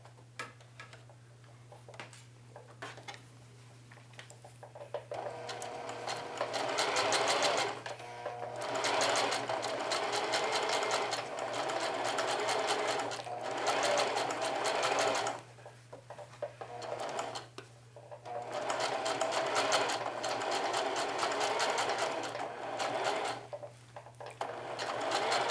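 A sewing machine stitches a jeans pocket, running in long steady bursts of rapid ticking with short pauses between, ending in back tacking, a constant low hum underneath and no talking.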